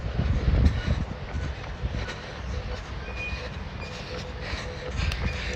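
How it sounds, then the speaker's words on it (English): Walt Disney World monorail rumbling overhead during a half marathon, a steady low rumble with a louder swell near the start, heard outdoors amid crowd ambience. "You guys hear that loud noise? That's the monorail going overhead."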